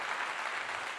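A short burst of steady applause from a live show audience, an even wash of clapping hands with no individual claps standing out, fairly faint and with no voices.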